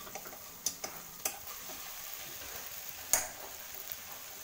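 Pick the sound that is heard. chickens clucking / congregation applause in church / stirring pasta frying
stirring pasta frying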